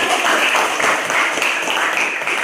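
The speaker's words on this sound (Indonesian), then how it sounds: "beri tepuk tangan untuk kelompok 1" A classroom of students claps for a presenting group, a continuous, fairly loud burst of applause from many hands with no pause.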